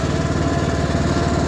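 A riding lawnmower engine runs steadily in a backyard, a continuous close, loud droning rumble with no talk.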